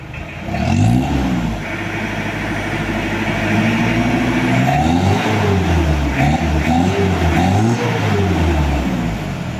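A Mitsubishi L200 diesel engine, freshly rebuilt with new oil, revs up loudly and close by in repeated swelling pulls that rise and fall over a steady idle, with no talking.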